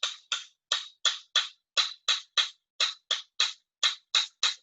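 Wooden salad tongs are squeezed together again and again, making about fifteen crisp, dry taps in a fairly even rhythm, close and alone with silence between each.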